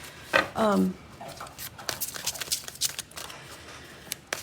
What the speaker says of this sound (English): Just need to shuffle these twice and pull some flyers